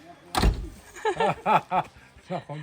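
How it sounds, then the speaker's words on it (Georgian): A car door is shut with a single solid thump, followed at once by a person talking close by. "კარი მიკეტეკე."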